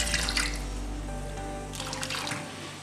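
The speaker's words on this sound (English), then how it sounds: "add little water to the mixture" Water is poured into a raw mango and yogurt curry mixture, a steady close splashing stream with two brighter pouring bursts at the start and toward the end.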